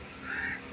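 A single crow gives one short, harsh caw, close and clear.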